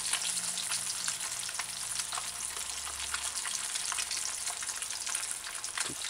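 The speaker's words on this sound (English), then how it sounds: "flip it fast and drop it in the oil, it's gonna splash and it might burn you" A fish fillet deep frying in hot oil on a stove set to medium high, producing a steady dense sizzle and crackle with scattered pops throughout.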